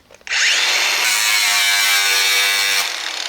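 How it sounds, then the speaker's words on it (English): An angle grinder runs against a steel plate. After a short lead-in it snaps to a loud, sustained high-pitched grinding whine that holds steady for about two and a half seconds before easing slightly. "Now if I put the angle grinder to it and there are sparks"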